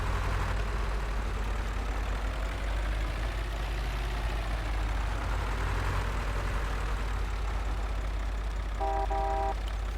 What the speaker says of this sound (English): Oh, the engine sound is totally different in this one.